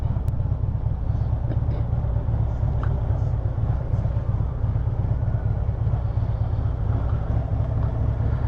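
Harley Davidson motorcycle riding a lap, a steady close engine rumble that holds throughout without a break.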